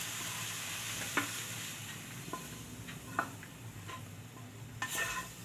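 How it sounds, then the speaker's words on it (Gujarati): Tomatoes and chilies roast in a hot pan for veg momos, a steady low sizzle with a few light scrapes and clinks of a spatula against the metal, close and without voices. "અને આમાં આપણે આ ટમેટા ને મરચાં ને એવું શેકી લેવું"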